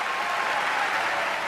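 Carnegie Hall concert crowd applauding, a dense, steady wash of clapping that fills the space at even loudness with no voices standing out.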